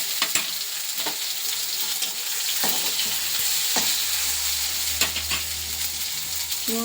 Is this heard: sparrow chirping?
no